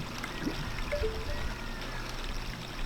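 Water splashing as a character moves through water in the Zelda Ocarina of Time video game: soft, continuous gurgling and lapping at moderate loudness, with a couple of faint tonal blips from the game, no talk.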